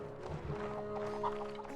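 Horse hooves clip-clop with a short whinny from a mount in the medieval game Mount and Blade: Warband, a steady mid-level trot over game music and village ambience, no talking.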